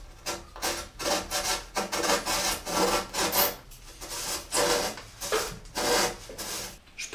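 Plasterboard (BA13) sheet being cut by hand with a blade, a series of scraping, rasping strokes repeating steadily and close up, with no talking.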